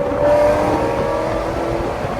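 A Chevrolet Corvette ZR1 with a stock stick-shift V8 revs while driving, its engine note loud and close, rising slightly then holding a steady roar over road noise.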